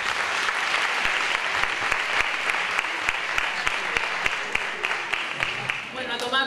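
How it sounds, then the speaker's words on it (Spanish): A gala audience applauds an athlete at a 2018 sports awards event, a steady dense wash of clapping lasting several seconds with a few sharper claps standing out, fading slightly near the end. "Un fuerte aplauso para este gran deportista."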